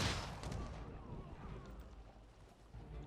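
Artillery firing at ships in a strategy video game: dense rumbling booms and blasts that merge into a continuous roar, fairly loud, with faint game effects and no clear talk.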